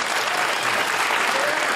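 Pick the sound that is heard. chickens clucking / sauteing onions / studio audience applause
studio audience applause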